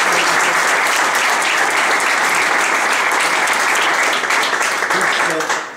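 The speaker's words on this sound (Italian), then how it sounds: "gli facciamo un applauso al nostro segretario" Loud, dense applause from an audience at an amateur football club's award ceremony, steady clapping throughout that tapers slightly at the very end.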